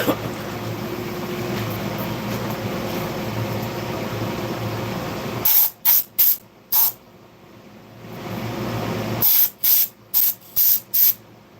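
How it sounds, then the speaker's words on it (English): An air hose blasts compressed air onto wood, first as a long steady loud hiss, then as two series of short sharp bursts separated by quiet gaps. "another thing I do is I take an air hose to it."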